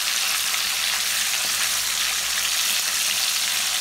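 Fish pieces fry in hot oil in a pan with a steady, close, dense sizzle and crackle that holds evenly from start to finish, with no talking.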